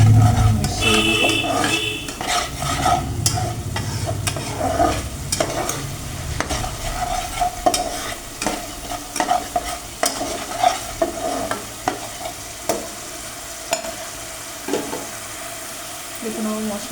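Spice masala with turmeric and salt stirred and fried in a pan for a brinjal, potato and hilsa fish curry, steady sizzling broken by repeated spatula scrapes and knocks that quicken toward the end, close and fairly loud.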